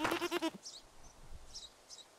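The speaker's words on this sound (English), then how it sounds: "Let's see if the goat will attack me." A hostile goat in Rising World lets out one close, wavering bleat, followed by faint, scattered high chirps over a quiet outdoor background.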